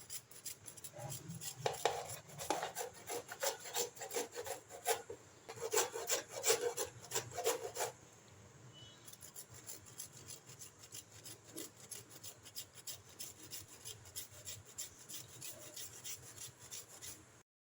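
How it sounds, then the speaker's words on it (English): A carrot is rubbed against a grater for carrot rice, giving soft rapid rasping strokes that are steady at first and then turn fainter and scratchier. The sound is fairly quiet and close. "Grate the carrot."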